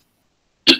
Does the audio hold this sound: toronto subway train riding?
no